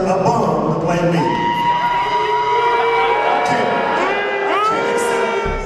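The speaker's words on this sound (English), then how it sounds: "The crowd was not happy, and certainly made it clear" A large crowd voices displeasure at a Michael Jordan impostor, with loud sustained booing, jeering and shouting filling the space throughout.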